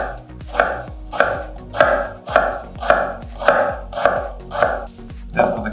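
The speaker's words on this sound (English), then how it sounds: "Today I'm going to cut like this." A knife chops through carrots or similar vegetables on a cutting board in a steady, even rhythm of about two cuts per second. The sharp, close thuds continue with no talking.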